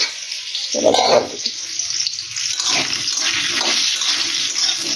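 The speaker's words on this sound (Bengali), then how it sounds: "জলটা দিয়ে দিই পরিমাণ মতো" Water is poured into a pot of potato and pointed gourd curry, a steady splashing pour that starts abruptly and runs on close by under a faint background hiss.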